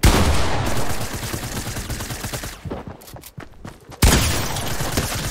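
Rapid bursts of gunfire in the video game Fortnite, loud and dense at first, then thinning into scattered shots before another heavy volley near the end.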